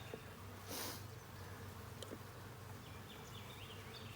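Package honeybees buzz faintly around an opened shipping package holding a caged queen, a steady low hum with a brief louder swell near the start.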